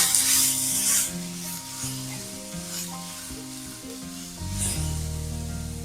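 Onion, tomato, ginger and garlic sizzle in a pan for soybean gravy, with a steady frying hiss, scraping stirs and a short spray-like burst, over background music.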